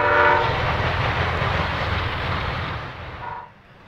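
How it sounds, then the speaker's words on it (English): Two trains crossing railroad diamonds side by side on a busy Ohio main line, a loud steady rumble of wheels and cars with a horn sounding at the start and again near the end before it fades. "two trains running side by side, crossing the diamonds at once"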